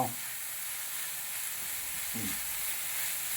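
Finely chopped green chillies sizzle in hot oil with onions over a medium flame for egg bhurji, a steady close frying hiss broken by a couple of soft scraping stirs in the pan, with no voices.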